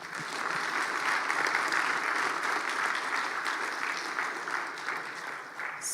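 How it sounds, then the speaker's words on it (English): Conference audience applause, a dense and sustained clapping from a crowd, holding steady for several seconds with no talk over it. "Okay, round of applause for Ilan."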